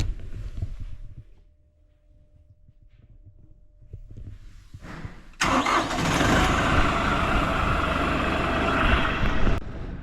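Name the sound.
tractor engine starting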